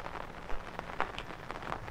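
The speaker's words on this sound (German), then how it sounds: "Es regnet stärker." Steady rain falls on an outdoor fishing spot, a broad hiss with scattered sharper drop impacts, fairly close and moderately loud, with no one talking.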